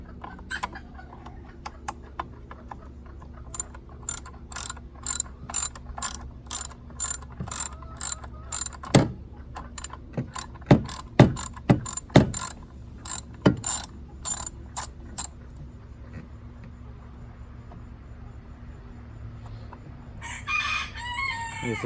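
Ratchet wrench backing out the two bolts on a John Deere Z225 lawn mower: bursts of quick metallic clicks in uneven runs over low hum, close and fairly loud, then quieter.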